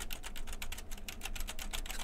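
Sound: typing on a computer keyboard near an Audio-Technica AT2020 microphone

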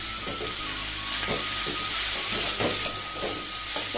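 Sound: potatoes, carrots and onion stalks frying with chilli and cumin

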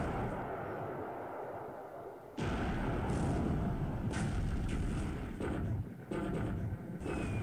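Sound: explosion of a sinking destroyer in War in the Pacific video game

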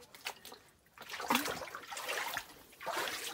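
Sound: tide water in Timubo Cave

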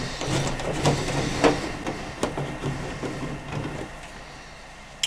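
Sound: removing screws from a microwave oven casing

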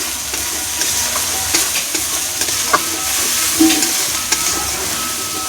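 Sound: spice paste with turmeric and salt frying in pan

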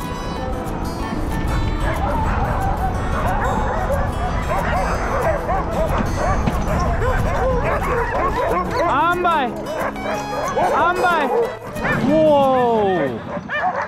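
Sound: sled dogs barking and yipping

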